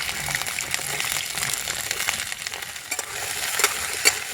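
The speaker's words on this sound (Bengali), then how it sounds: "এবার কিন্তু এই মিচুরি আর বেগুনটা একসাথে করে একটু ভেজে নেব।" Chopped pui mitchuri and eggplant frying together in a wok, a wet bubbling sizzle punctuated by sharp clicks and scrapes of stirring, with no talking.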